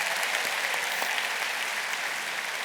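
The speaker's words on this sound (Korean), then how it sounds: "박수." A church congregation at a youth worship service applauds in a dense, even wash of clapping that holds at a steady level for nearly three seconds, loud and uninterrupted by speech.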